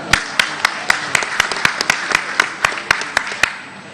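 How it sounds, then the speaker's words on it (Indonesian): Sparse individual hand claps ring out at an Indonesian PDIP political event, scattered and fairly sharp rather than a full dense ovation, with a low murmur of the room underneath. "Kita berikan tepuk tangan yang meriah."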